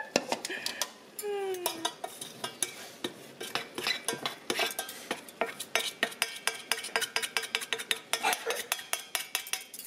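A utensil briskly mixes a milk mixture in a bowl, with rapid, regular clinks and scrapes against the side that speed up into a steady close rhythm, and a brief squeak early on.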